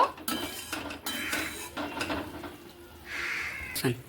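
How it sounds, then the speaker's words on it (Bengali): Intermittent scraping and clinking of a spoon stirring okra in a metal pan, several short strokes with brief pauses, fairly close. "এবার হালকা করে আমি নেড়ে নিচ্ছি"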